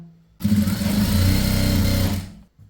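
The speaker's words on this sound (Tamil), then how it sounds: "துணியோட ராங் சைடில் இப்போ நம்ம தைக்க ஆரம்பிக்கலாம்" A sewing machine stitches fabric for a chudithar set in one loud, steady burst of rapid mechanical whirring lasting about two seconds, starting and stopping abruptly with a brief click afterward.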